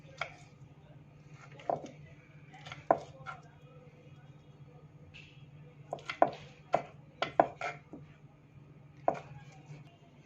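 Knife chopping through steamed taro leaf rolls (patra) on a board, about a dozen sharp, separate cuts arriving in uneven clusters with quiet pauses between, close and clear over a low steady hum.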